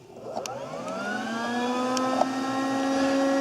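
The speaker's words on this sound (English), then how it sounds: "You hear the air pump is running." Volkswagen Jetta secondary air injection pump running, a whining electric hum that starts and rises in pitch as it spins up, steady and close, with a couple of faint clicks and no talk.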